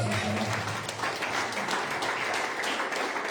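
A church congregation applauds during a sermon, steady mid-level clapping from a large group that continues evenly throughout, with a faint low hum underneath.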